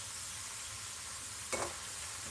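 Potatoes tossed in a pan with rendered pork chorizo give a steady, close sizzle of frying that fills the whole moment, with one brief louder flare of hiss midway as the food is stirred.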